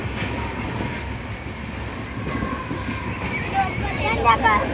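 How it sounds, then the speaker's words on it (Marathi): A train rushes past at speed in the evening, producing a steady, loud broadband rumble and rattle close by that swells slightly toward the end. "तर ट्रेन फास्ट व्हायला आली."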